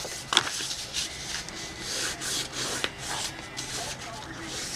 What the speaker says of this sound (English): And just fold that back, burnish it down, and do the other